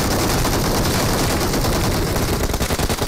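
Dense, rapid gunfire from the BGMI mobile battle royale game during a tournament match, loud bursts of automatic fire packed together continuously with no pauses.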